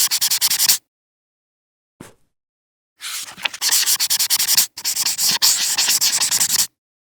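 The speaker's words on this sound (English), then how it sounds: "First step is apparently sanding, just to give it a bit of a purchase area." Rhythmic rough scraping of sandpaper on Ikea wood furniture, close up, in fast back-and-forth strokes broken by short pauses and stops.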